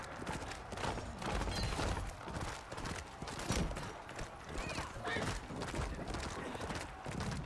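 Horse hooves clop in a steady rhythm in the medieval combat game Chivalry 2. The sound is quiet and sits under other battle noise.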